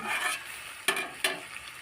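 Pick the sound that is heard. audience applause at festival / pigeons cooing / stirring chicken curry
stirring chicken curry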